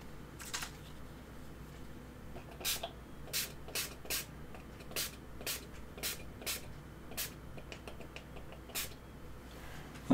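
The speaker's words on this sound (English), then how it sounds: "See the fine mist spray?" A series of short, sharp spray bursts from a mist bottle, repeated irregularly about a dozen times over a quiet background hiss.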